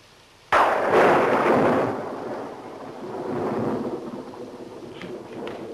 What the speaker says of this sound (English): It's the storm that's getting on my nerves.